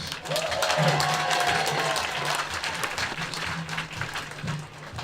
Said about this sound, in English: I want you to give yourselves a huge round of applause